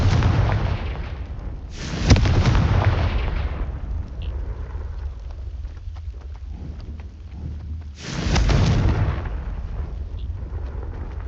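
Confringo blasting spell explosions in the Hogwarts Legacy video game: two loud, booming blasts with rushing roars several seconds apart, each fading into a rumbling tail.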